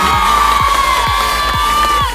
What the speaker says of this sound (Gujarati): બેનને આપણે ખૂબ જ તાળીઓથી વધાવીએ